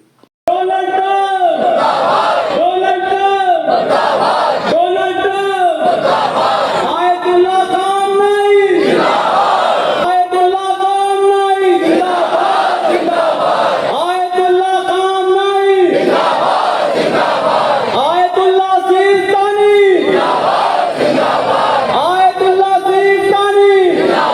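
A crowd of protesters in Lucknow chanting anti-American and anti-Israeli slogans in a loud, rhythmic call-and-response pattern, with repeated bursts of unison voices sustained throughout.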